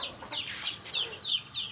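Backyard laying hens cluck softly in short, uneven calls that rise and fall close by, with no talk over them.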